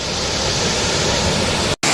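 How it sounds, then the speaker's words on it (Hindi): A waterfall in the Uttarakhand hills gives a loud, unbroken roar of falling water, broad and steady from close by, with no voices. "अगर मैं जूम करके दिखाऊं तो ये है भैया वाटरफॉल।"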